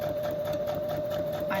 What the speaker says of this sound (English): I don't normally sew on camera